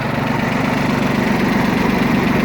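A Mitsubishi MT205D compact tractor engine idles close by, a loud, even diesel putter with a rapid regular knock and a steady vibrating hum that holds unchanged throughout.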